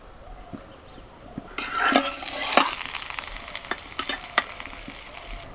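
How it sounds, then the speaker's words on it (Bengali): An egg and potato batter fries in oil in a pan: a faint background hiss swells into a louder, crackling sizzle, with sharp clinks and scrapes as the spatula turns it. "ব্যাস, এই পিঠটাও ভাজা হয়ে গেল।"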